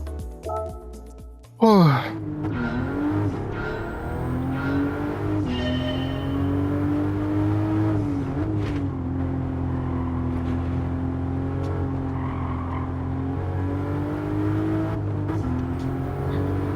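Toyota Supra racing engine in Gran Turismo 7, a sudden loud rev rising into a sustained droning engine note that holds steady with slight pitch swells, with a voice talking over it.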